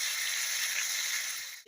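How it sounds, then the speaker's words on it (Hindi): Tomato puree fries with onions in a pan, giving a steady close sizzling hiss that carries on evenly and then cuts off abruptly near the end. "इस प्यूरी को हम इस प्याज के साथ तब तक भूनेंगे जब तक कि इससे तेल ना अलग होने लगे"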